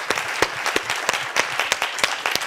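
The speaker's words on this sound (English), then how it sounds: "Eva, can we have a big round of applause for Eva and all the organizers?" A conference audience applauds, dense clapping from many hands continuing steadily at close range for a few seconds.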